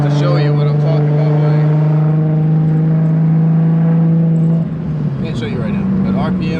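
A Nissan GT-R with a slipping clutch holds a loud, steady engine drone under boost, then the note dips and roughens as the revs sag; a person talks faintly over it.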